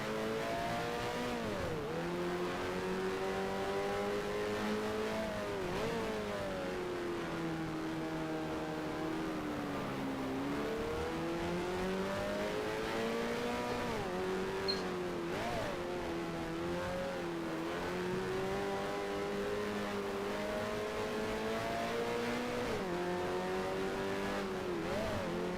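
A Tyrrell Formula One car from the 1975 season overtakes in F1 Challenge, its engine whining loud and steady with rising and falling pitch as it shifts gears, and a brief tyre squeal partway through.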